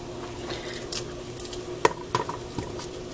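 Pieces of food for Hungarian goulash go into a pot with shortening, making scattered soft clatters and scrapes with one sharp clink midway, close by and with no speech.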